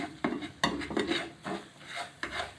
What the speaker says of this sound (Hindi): चम्मच को हिलाते इसलिए जाना कि नीचे से चीनी लगे ना